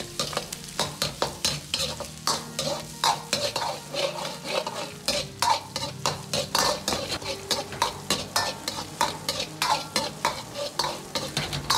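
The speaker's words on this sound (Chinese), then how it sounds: "煸炒出香味。" Scallion, ginger and garlic are stir-fried with minced pork in a wok, giving a steady loud sizzle broken by rhythmic scraping strokes of a metal spatula against the pan throughout.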